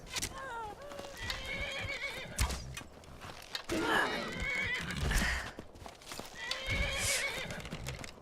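A video game horse whinnies several times over clip-clopping hooves and creaks, with someone talking over parts of it.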